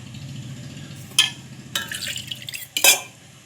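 A spoon stirs chutney thinned with water, giving a few quick scraping strokes against the container, close and fairly quiet over a soft low background.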